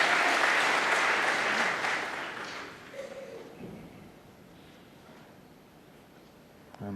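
A 2,000-strong snooker crowd at Alexandra Palace applauds loudly, the clapping fading away after a few seconds into a quiet hall with faint murmurs.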